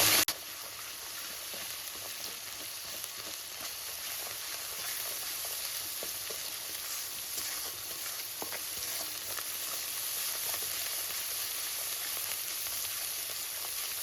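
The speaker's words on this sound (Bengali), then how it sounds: "এবার সমস্ত মশলাকে লো টু মিডিয়াম ফ্লেমে কষে নেব" Ginger, cumin, chilli paste and ground spices such as turmeric and chilli powder fry in a pan over low to medium flame, giving a steady close sizzle with light stirring throughout and no talk.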